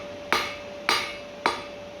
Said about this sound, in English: Take your time and get a really good nice consistency with the hammer blows as well.